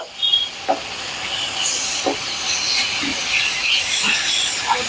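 Ground spices with Kashmiri chilli powder frying in a pan for a fish curry, a loud continuous hiss of sizzling oil with a few soft stirring scrapes spaced through it, heard close with no voices.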